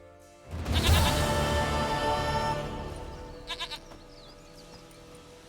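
A goat bleats in The Witcher 3, a sharp, wavering call that swells in loudly near the start and trails off over a couple of seconds, with a few short softer bleats following later.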